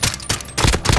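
Rapid bursts of video game gunfire rattle out loud and close, two dense volleys packed into a single second with no voice over them.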